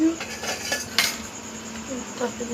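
A metal cooking pot is lifted with a short clanking rattle, then a single sharper metallic clink about a second in, followed by softer scrapes and knocks nearby.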